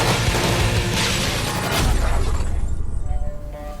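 Glass walls blown apart for a Suicide Squad film stunt: a loud, dense crash of shattering fragments fills the whole clip, then tapers into scattered, thinning debris toward the end.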